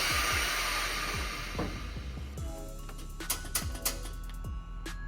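Truck air suspension dumping air at a truck show: a loud, broad hiss that fades over about two seconds, followed by scattered clicks and faint tones.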